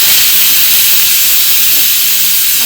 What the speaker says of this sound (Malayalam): നമ്മുടെ 4ാമത്തെ വിസിലാണിത്.